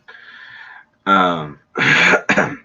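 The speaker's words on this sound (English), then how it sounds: "I'm still coughing up pink lemonade" A person coughs and clears their throat after a sip of pink lemonade went down the wrong pipe: a raspy throat-clear followed by three harsh, close coughs.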